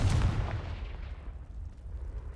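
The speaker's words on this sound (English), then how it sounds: "Someone piled this here for a reason. Is it blocking something? Only one way to find out. Confringo!" In the Hogwarts Legacy video game, the Confringo explosive spell blasts a pile of debris, a single deep booming burst up close that fades into a low rumbling tail.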